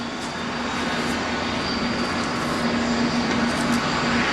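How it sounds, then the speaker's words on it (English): A loud, continuous jet-engine roar from jet dryers drying a rain-soaked NASCAR race track at Charlotte, with a steady whine running through it, constant and close. "Rather, it's the sound of the jet dryers."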